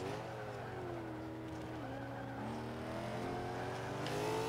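Nissan GT-R R34 engine in Forza 5 pulling hard on the Nürburgring, a steady loud drone with rising harmonics as the all-wheel-drive car accelerates, revs climbing then dipping briefly at a shift before building again.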